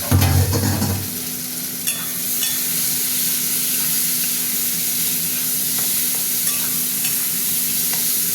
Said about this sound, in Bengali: পেঁয়াজ ভাজা ভাজা হয়ে গেছে, চিংড়ি মাছ দিয়ে দিলাম।